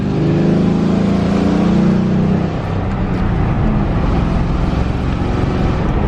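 A 2009 Ford Crown Victoria with a swapped-in 5-speed manual drives along, its engine a loud, dense rumble that climbs in pitch during the first couple of seconds, then settles into steady cruising road noise, with no talking.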